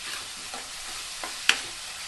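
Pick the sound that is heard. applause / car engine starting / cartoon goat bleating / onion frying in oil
onion frying in oil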